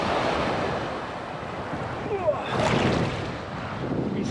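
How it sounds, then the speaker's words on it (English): Ocean surf rolls and washes steadily along a beach near training hills, a broad continuous rush of breaking waves mixed with wind buffeting the microphone, with a slightly louder swell partway through. "It'd be so bad if we didn't have the waves."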